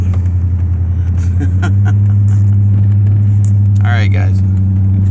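A car drives along a winter road near a boat ramp, its engine rumbling low and steady throughout, with someone talking over it and some faint clicks and rattles.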